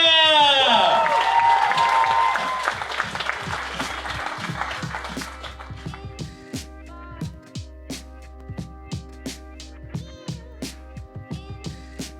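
An audience at a stand-up comedy show applauds to welcome a comedian on stage, with a dense burst of clapping and a faint whoop at first, then thinning to a few scattered claps. A voice speaks over the opening.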